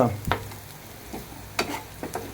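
Prawns fry in a pan over a medium flame, a steady sizzle broken by several sharp stirring scrapes at irregular intervals.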